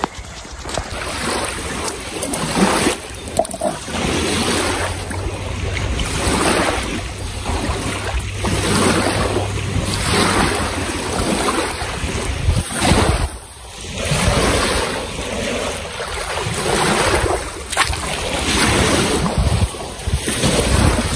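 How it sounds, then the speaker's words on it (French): Waves washing against a lake shore at a bivouac spot, with gusting wind buffeting the microphone, a loud, continuous surging wash that swells and eases in irregular pulses. "croirais au bord de la mer avec les vagues"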